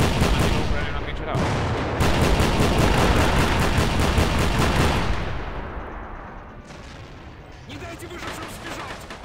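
Artillery and gunfire in the Men of War game during a Russian assault on Sievierodonetsk: a dense, loud barrage of rapid repeated blasts that eases to scattered shots before picking up again.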